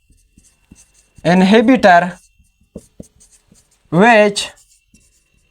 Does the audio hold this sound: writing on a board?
yes